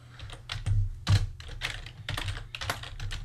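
Typing on a computer keyboard: a close run of quick, uneven key clicks and taps with a few heavier strokes, steady and alone without speech.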